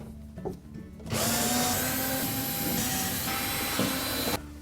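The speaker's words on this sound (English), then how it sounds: "We next need to remove the screws that secure the evaporator cover on." A power driver runs steadily for a few seconds to back out 1/4-inch hex screws from a refrigerator's evaporator cover, with a continuous loud whir, a short clank before it starts and an abrupt stop.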